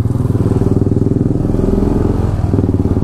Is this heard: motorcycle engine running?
yes